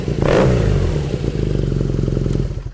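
A BMW R nineT motorcycle, a 110 hp boxer, gets a sharp throttle blip that swells and drops back to a lumpy, clattering idle, heard close and loud with no talking.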